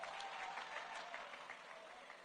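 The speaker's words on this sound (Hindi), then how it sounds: "आप सब लोग जोरदार ताली बजा के प्रियंका जी का स्वागत करिए" Steady crowd applause at a 2023 Madhya Pradesh election rally in Sanwer, welcoming Priyanka: a dense, even wash of many hands clapping, faint and distant, with no speech over it.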